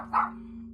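A cream poodle gives a single short, high-pitched bark, close and alone over a steady low hum.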